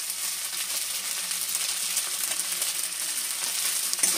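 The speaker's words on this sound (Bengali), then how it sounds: "ম্যাগি মশলাটা ভালোভাবে একটু মিশিয়ে নেবো।" A suji filling sizzles in a hot pan as Maggi masala is stirred in, giving a steady, close frying hiss with light scraping of the spoon and no voices.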